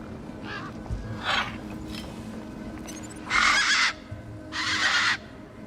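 Tough desert birds in the video game Beyond a Steel Sky give harsh, crow-like squawks: a few short calls, then two longer, louder raucous bursts close by, over faint background ambience.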